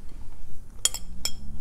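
Metal utensil clinking twice against a bowl while attieke is stirred, two sharp separate clicks over a quiet background.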